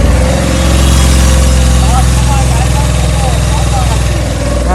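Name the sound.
Laguna vehicle engine revving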